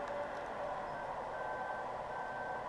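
Combine harvester in Farming Simulator 2013 with a backup alarm, steady reversing beeps over a continuous engine drone, moderately loud and alone.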